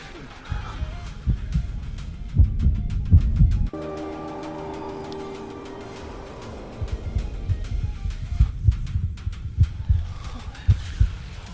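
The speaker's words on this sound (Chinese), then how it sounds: "这是原主的心跳。" A heartbeat thumps in a steady, low, close rhythm in an animated drama scene. It pauses briefly under a sustained tonal hum, then resumes.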